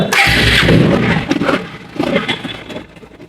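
A Bajaj Pulsar 150 cc motorcycle engine cranks and catches, then runs with an uneven, revving rumble that settles lower toward the end, close and loud.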